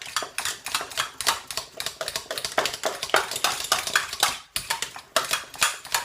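Rapid clinking and scraping of cutlery against a plate as butter is mixed into a baked jacket potato, a close, busy clatter of metallic taps with no speech.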